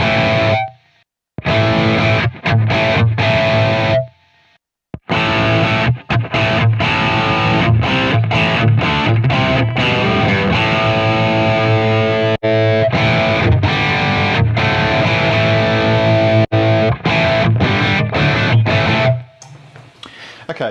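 A distorted electric guitar played through MVave Tank-G cabinet impulse responses: loud chords and riffs in several passages separated by brief silences, with no talking.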